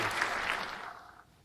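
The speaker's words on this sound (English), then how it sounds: "round of applause for Jalen Waddle" Brief burst of clapping that fades out over a second or so, fairly faint, with no talking over it.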